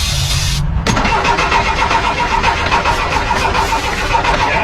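An old diesel car engine cranks briefly, then fires and catches, settling into a loud, steady rough idle with a rhythmic knock that continues to the end.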